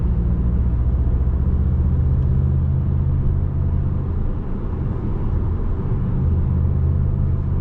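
2018 Volkswagen Golf GTI with manual gearbox driving in Sport mode, a steady low engine and road rumble heard from inside the cabin, continuous and moderately loud throughout.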